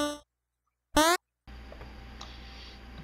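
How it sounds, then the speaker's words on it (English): Game Boy sound channel 3 sweeping its note frequency: a short buzzy chiptune tone, silence, then a quick bright sweeping blip, followed by steady low hiss. "the Game Boy hardware will increment or decrement the frequency the note plays at."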